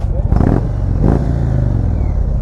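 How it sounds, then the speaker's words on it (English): A 2017 Indian Springfield bagger motorcycle on its stock exhaust, revved up twice in quick bursts over a deep, steady idle rumble, close and loud. "I love the rev matching, the exhaust note."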